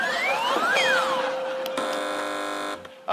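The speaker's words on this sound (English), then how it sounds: "OK, fingers on buzzers, teams." Game show buzzers sound as teams press them on a television news quiz panel show: loud electronic tones with rising and falling sweeps, then a sustained harsh buzz that stops abruptly, heard up close and alone.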